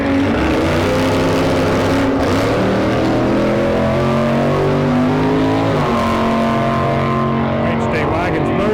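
A Holden HD wagon at the Street Machine Drag Challenge at Tailem Bend roars hard under acceleration, its engine note climbing steadily and shifting once, loud and continuous beneath a commentator's talk.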